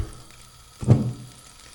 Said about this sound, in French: Donc là-bas, on va foutre un petit peu d'huile d'olive.